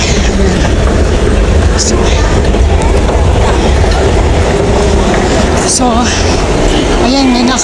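A Singapore MRT train pulls out of the station with a loud, steady rumble of wheels on rail and some clattering. Brief squeals and screeches come through near the end, and voices are heard speaking faintly beneath the train.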